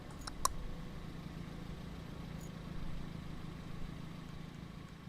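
Steady low truck engine rumble from the video game RoadCraft, a faint, even idling drone throughout with a brief click near the start and no speech.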